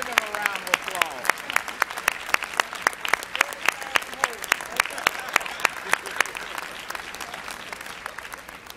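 A convocation crowd applauds warmly for a newly installed university president, dense steady clapping with crisp near claps over the massed sound, continuing evenly for several seconds before easing slightly.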